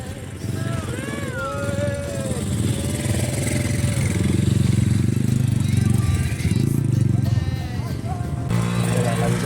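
A motorcycle engine revs repeatedly nearby at a rainy campground, a rough steady rumble rising and falling, with people talking over it.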